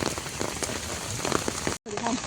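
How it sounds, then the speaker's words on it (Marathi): Steady rain pours down, a dense continuous hiss of drops striking a hard surface, briefly cut off near the end before resuming. "गाईज आम्ही आता पावसात अडकलो."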